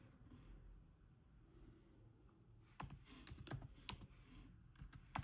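Typing on a MacBook Pro keyboard, starting after a quiet stretch: a quick run of crisp, close key clicks in short irregular bursts over faint background hum.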